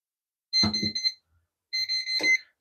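A non-contact voltage tester held to a live wire during a triple rocker switch replacement gives two short bursts of high, steady electronic beeping, separated by a pause. The beeps are close and clear.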